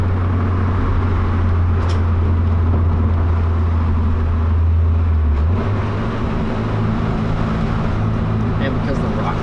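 Car engine in a Nissan S-chassis held at a loud steady drone while brake boosting, the pitch dropping and shifting partway through, with a voice under the noise.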